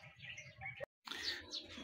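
Racing pigeons coo and chirp softly at a loft in San Fernando, La Union, a low, faint, continuous murmur of calls broken by a short moment of silence.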